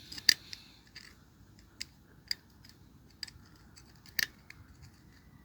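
Crumbling old wire is snipped off a Land Rover Series 2a engine, with a handful of sharp, faint clicks scattered unevenly over a quiet workshop background.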